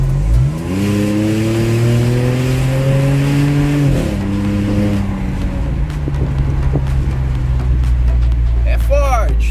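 Volkswagen Polo TSI accelerating hard in low gear, its engine note climbing steadily over several seconds before a gear change drops the pitch, with loud road and wind noise inside the cabin and a voice briefly heard.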